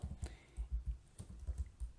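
Python code typed on a computer keyboard, a quiet close series of soft uneven keystroke clicks at a brisk pace, heard alone without speech.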